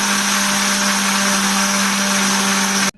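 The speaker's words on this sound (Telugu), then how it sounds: "మెత్తగా గ్రైండ్ చేసుకుందాం" A kitchen mixer grinder jar running at full speed while grinding cooled sunnundalu ingredients, a loud steady motor whine with a strong hum that cuts off abruptly at the end.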